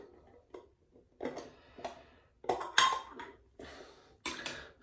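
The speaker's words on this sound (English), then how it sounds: "Let me get the lid off." The lid of an Old Spice shaving soap mug is worked off with a few close, light ceramic clinks and taps, spaced irregularly in a quiet room.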